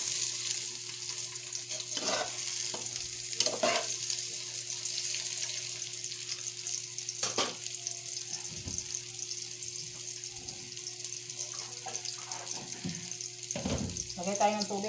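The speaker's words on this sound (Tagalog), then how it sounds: "Lagay ko squid ball." Squid balls fry in a pan for sotanghon, giving a steady sizzle throughout with occasional stirring clatters and short bursts of sound.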